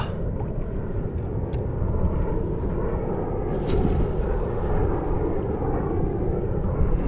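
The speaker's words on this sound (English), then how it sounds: "even though there's a plane flying over" An airplane passes over the sea off Sydney, heard from a kayak on the water as a steady, broad, low droning rumble that holds throughout.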